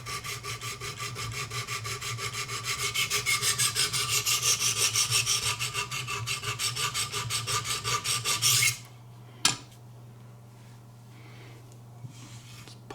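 Rhythmic rasping strokes of a Benchmade 725 Kodiak Skinner knife tip being sharpened against a stone, steady and close for about nine seconds, then stopping with a single sharp tap and quiet afterward.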